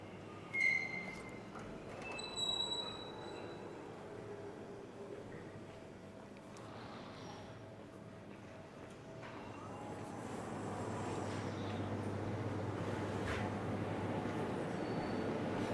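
A train rumbles along its rails near Roskilde, Denmark, as a steady low rolling drone that grows louder and fuller in the second half, with a few faint higher squeals early on and no talk.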